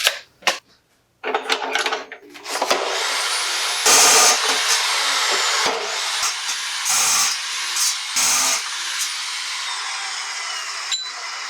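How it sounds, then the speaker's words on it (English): An abrasive cutoff wheel grinds through steel tubes for rally car rear control arms, a loud high-pitched shrieking whine that runs in long stretches with brief pauses and bursts, after a couple of sharp knocks at the start. "It's kind of expected when you use a abrasive wheel like that to cut the"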